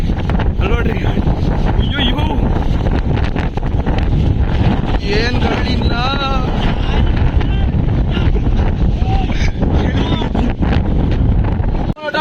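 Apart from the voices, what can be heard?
strong wind on mountain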